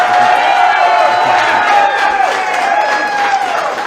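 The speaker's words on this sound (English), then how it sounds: "That's a pretty big cheer" A large crowd cheers and applauds loudly and continuously for a popular winner at a mountaintop Colorado Shootout evening session, with whoops rising over sustained clapping and a faint voice mixed in.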